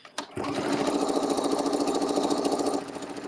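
A sewing machine runs steadily for about three seconds, stitching a second row on a Christmas appliqué disc after the needle is moved to the left position. It makes a close, even, rapid mechanical chatter.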